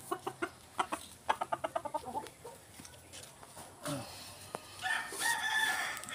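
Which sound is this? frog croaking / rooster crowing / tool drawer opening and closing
rooster crowing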